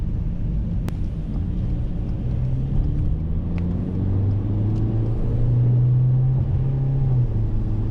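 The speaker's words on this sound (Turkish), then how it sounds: "Şimdi arada sırada dip gaz yapıyorum." Ford Focus 1.5 TDCi Trend X diesel car pulling away on wet, rain-soaked roads, its engine rumble rising steadily in pitch as it accelerates, heard from inside the cabin with no talking.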